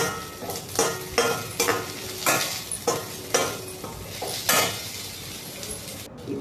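Garlic paste and curry leaves frying in a pan under a low sizzle, stirred with a utensil that scrapes and clinks against the metal in repeated strokes about every second, close and without speech.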